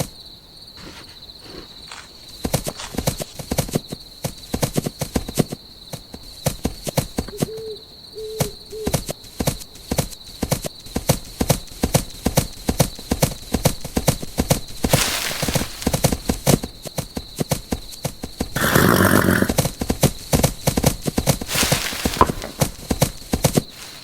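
Horse hooves clop in a steady rapid rhythm over a continuous insect-like chirring, with a few bursts of rushing noise and a brief low hoot.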